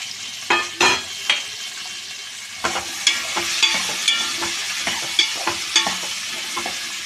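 Ivy gourd (tindora) frying in oil on high heat in a pan, a close bright sizzle broken by several sharp spatula scrapes and stirring clatters, no talking.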